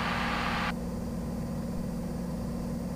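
Light aircraft piston engine droning steadily in cruise after the fuel mixture is enriched, a constant close low rumble throughout, with a brighter hiss that drops away early.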